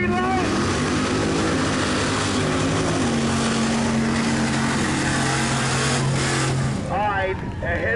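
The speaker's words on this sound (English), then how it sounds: "Frank Domain taking that little Chevrolet S10 for the trip on his Ford with a Chevrolet motor" A Chevrolet S10 roars away at a mud drag race in Los Fresnos, Texas, its engine loud and sustained, pitch climbing then dropping away, under an announcer's running commentary.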